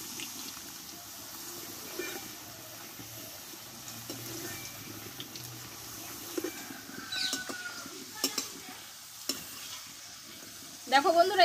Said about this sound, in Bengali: দেখো বাকি আলুর চিপসগুলো আমি দিয়ে দেবো